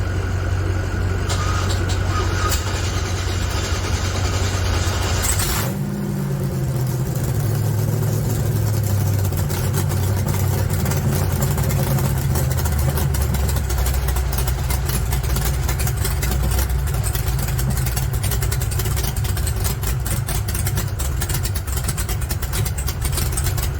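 A loud engine roars continuously after starting up, idling at a steady rumble with a rough, throbbing low end and no voices.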